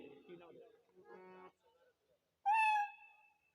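A performer imitates a kitten's meow in a nasal, drawn-out voiced cry, following some brief murmured sounds.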